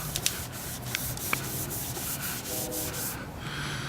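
Cloth rubbing over an RV mirror housing during restoration gives close, steady scrubbing strokes with a few sharp ticks and squeaks, and no voices.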